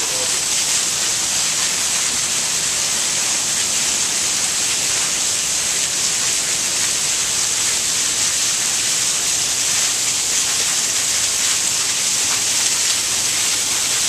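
Steady rain pours onto a gazebo roof, a dense unbroken hiss that stays loud and even the whole way through.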